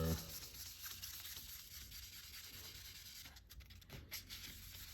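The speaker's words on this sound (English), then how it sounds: "these sanding blocks are really nice. They help out great." Steady, soft rubbing and scraping of a sanding block wet sanding the clear coat of a BMW 750i back and forth, continuous and close, with no talking.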